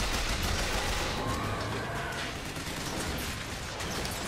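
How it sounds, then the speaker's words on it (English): Continuous machine gun fire in the video game Bioshock Infinite, a loud, steady stream of rapid shots with no pauses throughout. "Machine gun time. Machine gun."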